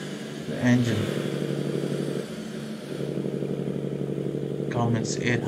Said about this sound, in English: 800 horsepower engine, it's roaring, you know.